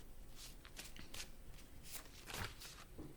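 Tarot cards riffled and shuffled close up in several quick papery bursts, with soft handling and brushing noises between them.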